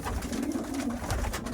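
A racing pigeon arriving back at its loft gives a brief, close, low coo amid soft rustling, lasting only a moment.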